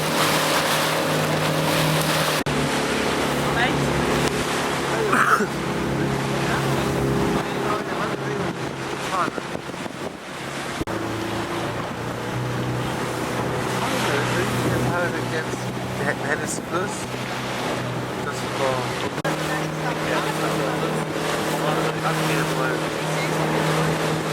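A boat rides over ocean swells off La Serena, Chile, the motor humming steadily under heavy wind buffeting and water rushing against the hull, with a thump as it drops into a trough and voices talking over it.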